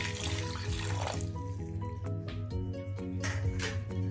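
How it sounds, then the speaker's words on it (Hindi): Water poured from a glass into a cooking pot of black chickpeas with chillies, turmeric and whole spices, a close steady splashing gush that gives way to gurgling and a few drips. "इसमें अब हम 3 to 4 glass पानी ऐड कर देंगे"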